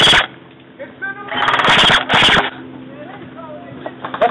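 Airsoft guns firing outdoors in a base defense game, a few bursts of sharp rapid clicks near the middle, close and loud, with players shouting around them.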